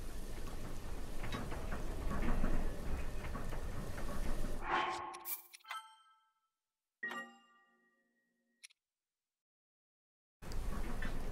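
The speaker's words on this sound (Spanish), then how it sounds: "Aquí está lloviendo." Steady rain falls in a Zelda video game, a dense hiss for the first five seconds, then cut to near silence broken by a few chime-like game tones, before the rain hiss returns at the end.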